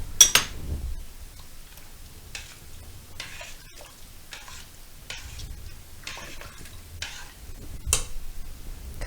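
Marjoram being stirred into a pan dish for croquettes and barszcz, heard as a string of soft, spaced ticks and light scrapes of a utensil against the pan, repeating at a steady, unhurried pace over quiet background hiss.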